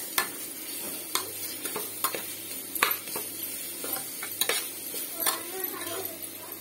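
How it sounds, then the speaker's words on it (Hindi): Ginger garlic paste frying in a pan for mutton curry, with a soft steady sizzle under repeated sharp scrapes and taps of a spoon stirring against the metal, close and alone. "वर्तमान मो एथिरे रखिथिबा अदा रसुण पेस्ट को पकेइ नेउछि।"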